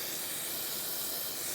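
Brake cleaner sprayed onto the rear brakes of a 2014–2018 Subaru Forester: one continuous, loud, close aerosol hiss that stays steady throughout.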